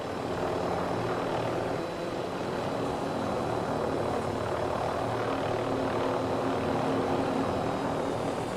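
Helicopter flying in a video game, a steady close rotor and engine drone holding evenly for the whole stretch, with no talk over it.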